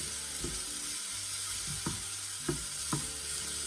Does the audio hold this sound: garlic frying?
yes